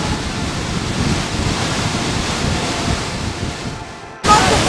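The Iguaçu waterfalls at Foz do Iguaçu, Brazil, roar as a steady, dense wash of broadband noise close by, with wind buffeting the microphone; the roar dips briefly near the end, then returns louder.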